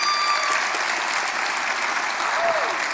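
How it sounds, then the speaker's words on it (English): A crowd at a community charity storytelling event claps loudly and continuously, a dense even patter with a faint cheer or whistle near the end and no talking. "I wanted to make you cry, not clap."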